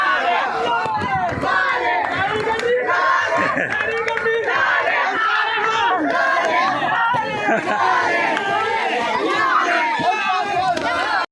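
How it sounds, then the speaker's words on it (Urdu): A loud crowd of students at a water park chants slogans and cheers without pause, with whoops, shouts and excited voices all overlapping. "طلباء کرام خوشی سے نعرے لگانے لگے"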